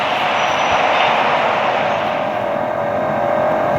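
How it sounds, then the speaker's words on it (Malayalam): A steady, loud video game jet engine roar with a broad whooshing hiss, holding constant throughout like a jet in flight, with no voices. "നമ്മൾ ജെറ്റ് എടുത്ത് പോവാണ്"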